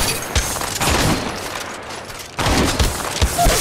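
Alternator gun in Apex Legends Mobile firing in rapid automatic bursts, loud and close, with a short pause midway before a second burst resumes, little or no talk over it.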